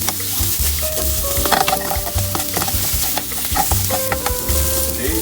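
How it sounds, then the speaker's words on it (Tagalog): Pre-boiled meat sautés in a hot pan with a loud, continuous sizzle, broken by scraping and stirring strokes throughout. "yung ating meat na pre-boil ko na para hindi na masyadong matagal i-saute"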